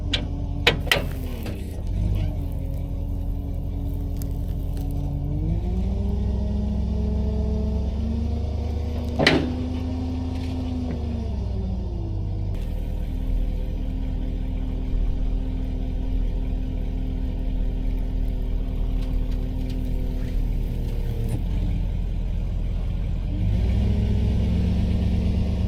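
A farm truck loaded with a couple of hay bales drives out to feed cattle. Its engine drones steadily and close, with the pitch shifting between gears and a brief clunk partway through, and no one speaks.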